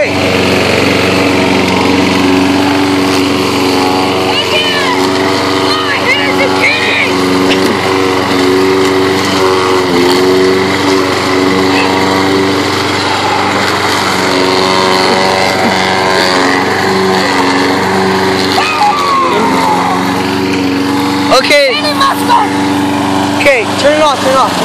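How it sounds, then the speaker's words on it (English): A lawn mower's small engine drones steadily throughout, loud and near, with a brief sputter near the end as it winds down. "Turn it off. That was the lawnmower."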